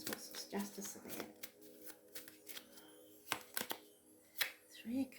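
Tarot cards being shuffled by hand during a reading, a run of quick riffling and slapping bursts close by, with a voice talking quietly underneath.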